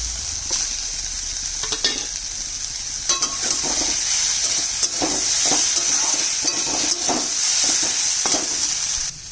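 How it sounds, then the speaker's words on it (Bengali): Fried prawns added to a pan and stirred, a loud continuous sizzle with repeated scraping strokes of a utensil against the pan, with no talking. "এবার আমি দিয়ে দিচ্ছি চিংড়ি মাছ ভাজাটা"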